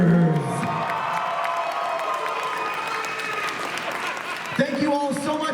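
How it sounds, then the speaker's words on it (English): Audience at an in-character cosplay contest at Colossalcon North 2024 applauds and cheers contestants and winners, a steady dense crowd clapping with whoops, fairly close and loud, ending with a brief louder burst. "Let's have one more round of applause for all of our contestants and our winners."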